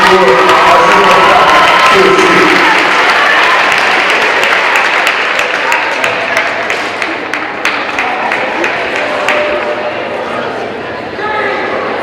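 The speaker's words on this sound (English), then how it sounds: "give them a round of applause, everybody" Loud applause and cheering from a school audience at a strength show, dense and continuous, tapering slightly toward the end with scattered individual claps standing out.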